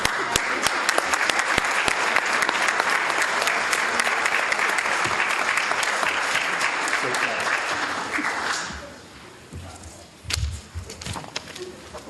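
A crowd at a youth achievement hall of fame awards ceremony applauds the honorees with loud, steady clapping for about eight seconds, then it drops away, leaving scattered sounds and voices.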